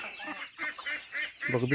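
Ducks quack and honk close by in short nasal bursts, a few calls overlapping with a louder call at the end.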